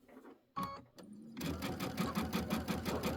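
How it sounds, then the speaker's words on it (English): A sewing machine stitches a mini quilt in a fast, steady whirring run of about two seconds, close and loud, with a couple of short clicks and bursts just before it starts. "I'm going to sew until I'm about a 1/4 inch away from the end."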